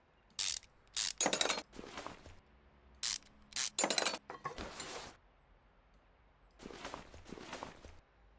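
Ratchet wrench clicks from Car Mechanic Simulator as car parts such as a brake shoe, sway bar and shock absorber are unmounted, coming in several short loud bursts of rapid ratcheting separated by quiet gaps.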